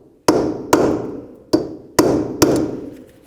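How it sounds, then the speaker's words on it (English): Five sharp metallic hammer strikes on a punch, peening the rear axle nut of a 1998-2002 Honda Accord, spaced unevenly, each ringing briefly before the next blow; close and loud, with no talking. "I'm just going to use a punch and a hammer, just knock this in"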